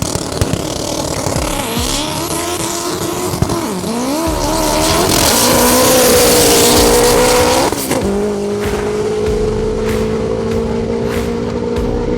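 An AWD car spinning its wheels at a drag race on Vernamfield strip in Jamaica: a loud, close engine roar with rising and falling pitch and tire squeal, easing into a steadier drone, then a few sharp pops toward the end.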